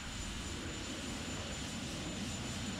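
A Dassault/Dornier Alpha Jet engine in the X-Plane 11 flight simulator gives a steady, even jet roar with a thin high whine on top, continuous and loud, with no talking.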